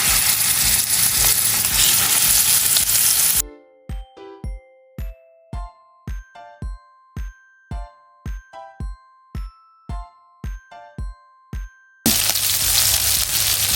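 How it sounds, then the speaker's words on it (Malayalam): Chicken pieces fry one by one in a little hot oil in a pan, giving a steady, dense sizzle at the start and end. A plucked, chiming melody interrupts the frying in the middle. "ഇനി ഒരു പാൻ അടുപ്പത്ത് വെച്ച് ചൂടാകുമ്പോൾ കുറച്ച് ഓയിൽ വെച്ച് നോക്കാം കുറച്ച് മതി ഇനി ഓരോന്നായിട്ട് പൊരിച്ചെടുക്കാം"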